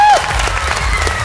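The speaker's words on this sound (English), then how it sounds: "give them a round of applause." Brief burst of crowd applause, steady clapping with some cheering voices in the background.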